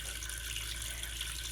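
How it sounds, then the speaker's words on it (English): Filtered well water pours into a blender over chunks of coconut meat, a steady, close hiss of running liquid with no voices. "once you have it in the blender, we are going to add water"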